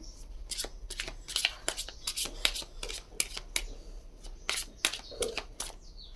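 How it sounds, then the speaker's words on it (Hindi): Chakra oracle cards are shuffled and drawn from a deck in a series of quick, close, crisp riffling and slapping bursts, fairly faint and intermittent. "आपके लिए कुछ चक्रास कार्ड निकालती हूँ मैं"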